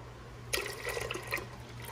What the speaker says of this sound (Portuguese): E agora eu vou colocar mais um litro aqui. Um litro de leite.